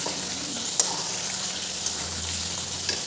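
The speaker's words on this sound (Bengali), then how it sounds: "মশলাটা কষতে আর একটু সময় লাগবে দেখো কিন্তু দেখো কি সুন্দর চারিদিক থেকে তেলটা বেরিয়ে পড়ছে" Masala spices frying in oil in a pan until the oil separates, giving a steady, close sizzle and crackle that runs without a break, with a few faint clinks of a stirring utensil.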